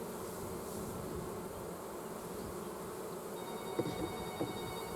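A dense, continuous buzz of many bees swarming close around a beehive, steady and fairly quiet, with a few faint knocks near the end.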